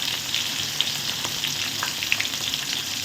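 Onion, green chili and garlic sizzling in oil in a pan, a steady close crackle and hiss with small spitting pops throughout.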